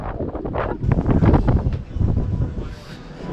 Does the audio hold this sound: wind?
yes